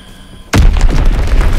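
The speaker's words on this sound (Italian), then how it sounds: "Bombardamento nemico" An enemy bombardment shell from Call of Duty: WWII bursts into one sudden, very loud boom after a quiet moment, then rolls on into a heavy rumbling tail.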